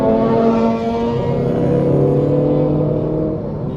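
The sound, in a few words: cabin noise inside a Citroen Aircross while driving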